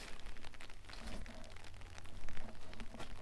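Rain falls outdoors at night in Gettysburg, Pennsylvania, a faint, dense, steady patter of drops with no talk over it.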